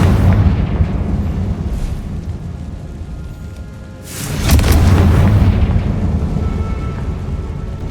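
A Confringo blasting curse from Hogwarts Legacy erupts in a heavy booming explosion midway, rising out of a dense, rumbling roar that carries on loud before and after the blast.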